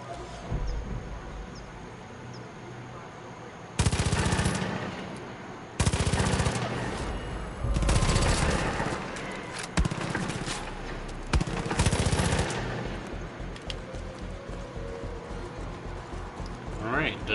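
Several heavy bursts of automatic gunfire in Far Cry 5, loud broadband volleys spaced a couple of seconds apart over a constant rumbling game ambience, with rapid shots continuing more softly near the end.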